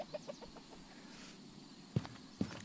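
Ducks in the game A Township Tale give a quick run of short, clipped calls close by, followed by two sharp thumps, with no talking.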